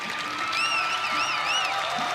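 A college wrestling crowd applauds and cheers a major decision win in a Wyoming vs Oregon State dual meet, steady clapping and cheers filling the arena while whistles and a voice sound over it.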